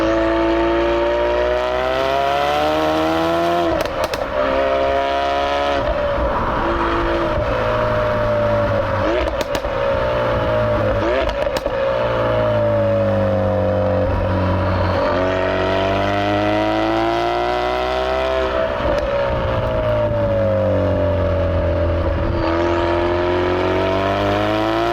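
A last-generation all-wheel-drive Ford Focus RS is driven at full throttle, its engine note climbing loudly and steadily, then dropping at each gear change before rising again. The sound runs continuously for the whole stretch, with no voices.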